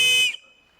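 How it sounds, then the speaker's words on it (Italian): A loud, piercing blast from the polymer whistle built into the end of an Opinel N°12 Explore folding knife handle, rated at 110 decibels, sounds close for about a third of a second, then cuts off into near silence. "nella parte finale del manico troviamo un fischietto abbastanza forte, infatti stiamo parlando di 110 decibel"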